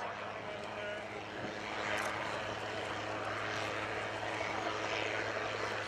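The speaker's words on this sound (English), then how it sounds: "here we see Peter Troy Davies rolling with the Rotorsport Calidius" A Rotorsport Calidus gyrocopter rolls and lifts off at an airshow, its engine and propeller giving a steady, broad drone that swells slightly midway and holds at a moderate distance amid open-air ambience.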